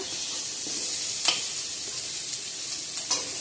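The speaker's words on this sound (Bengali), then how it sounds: "আমি কুমড়াটা ভেজে নিচ্ছি মিষ্টি কুমড়া" Sweet pumpkin frying in a pan in a home kitchen, a steady close sizzle with a few sharp clinks of stirring and no talk.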